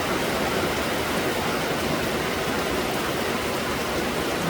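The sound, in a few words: rain water falling from the roof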